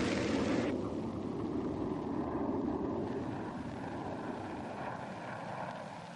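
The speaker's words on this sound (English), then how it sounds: "The Americans also had a new and formidable attack aircraft." A-6 Intruder attack aircraft jet engines drone in a steady, loud, broadband roar that fades slightly toward the end, with no voices.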